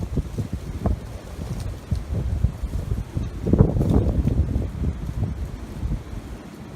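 Wind gusts outdoors by an old barn and power station on abandoned asylum grounds, a steady low rumbling buffet with a stronger surge midway.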